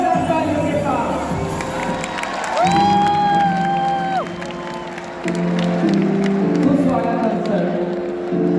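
A crowd at a Khan Sir seminar cheers and whoops in welcome, with loud continuous noise, shouts and a rising whistle-like tone over several seconds.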